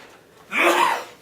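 A single short sneeze bursts out sharply after a brief quiet moment, close and fairly loud, then trails off.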